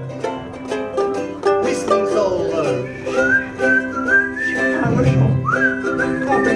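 A person whistles a bright, wavering melody over a backing track of music, the tune carrying clearly and steadily throughout.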